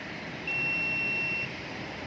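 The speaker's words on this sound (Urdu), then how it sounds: "الارم بج پڑے گا" A drowsiness alarm for drivers, mounted above the driving seat, gives a single steady electronic beep lasting about a second over a faint background hum.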